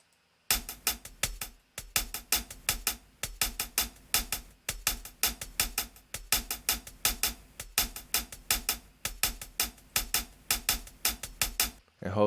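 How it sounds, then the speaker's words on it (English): Rap drum mix with three hi-hats, one centred and two panned left and right, playing as crisp rapid ticks in a steady looping pattern alongside punchy hits, continuous for about twelve seconds with no talking. "I usually come to the hi-hats"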